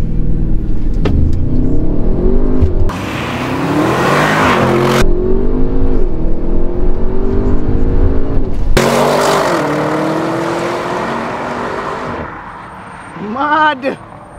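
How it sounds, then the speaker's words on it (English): A 2021 Audi RS7 with 700 HP roars and revs hard in a launch, with bursts of acceleration rising in pitch, while people talk and shout over it close by. "I want to see you do a launch."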